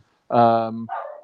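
Dogs barking somewhere near, heard as one loud, drawn-out bark or yelp followed by a shorter, fainter one, all within about a second.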